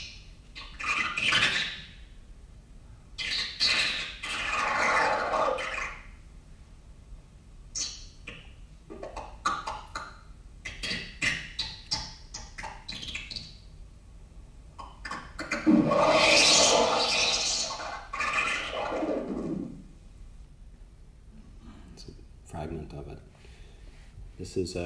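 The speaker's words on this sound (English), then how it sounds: "This is an early piece of tape music from 1957" Sparse, fragmented 1957 electronic tape music: bursts of hissy noise and clattering, scraping textures separated by near-silent gaps, with no talking.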